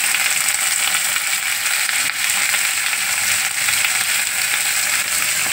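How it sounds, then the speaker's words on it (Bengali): Ridge gourd and potato sizzle steadily as they fry with salt, a dense continuous crackle with faint scraping of stirring, close and fairly loud throughout with no voices. "এবার একটু নুন দেবো, নুন দিয়ে নাড়াচাড়া করে একটু ভাজা হলে"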